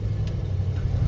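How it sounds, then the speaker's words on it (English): A car passes on the road beside a parked vehicle, a low steady engine rumble that holds through the moment, close and moderately loud with no talk. "I got a car coming again"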